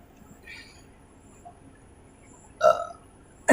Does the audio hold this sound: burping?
yes